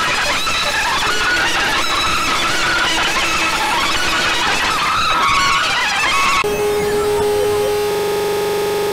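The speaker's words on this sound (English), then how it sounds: "he tragically crashes his car into the family dog Bonzo" A car skidding with loud squealing tires and a roaring engine as it crashes into the family dog Bonzo, a harsh continuous screech that cuts abruptly to a sustained tonal drone.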